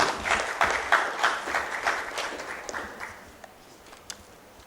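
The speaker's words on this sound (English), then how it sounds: "Can we make that applause a lot louder for him?" Clapping from an audience for a guest speaker at a summit and expo, a fairly steady patter of many hands that gradually tapers off into a few scattered claps.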